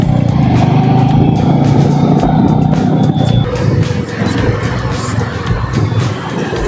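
A motorbike rides off with its engine revving loudly and close, a rough rising drone with bursts of throttle, while voices talk and chatter around it.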